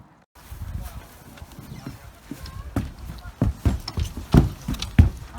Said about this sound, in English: what a horse